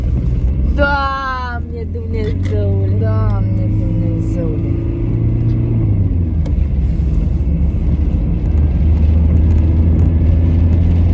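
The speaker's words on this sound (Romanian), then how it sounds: "merge mașina înapoi" A car engine hums low and steady as the vehicle rolls backward, rising slightly toward the end, while a voice calls out loudly over it at the start.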